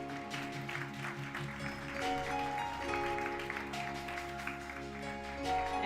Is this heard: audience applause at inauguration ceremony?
yes